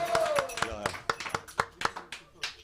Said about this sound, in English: Big round of applause for that little kirtan.